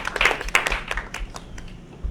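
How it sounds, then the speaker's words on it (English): Scattered audience clapping at a community peace event in the Bronx, a burst of uneven claps that quickly thins out to a few faint, sparse hand claps. "Let's clap it up, right?"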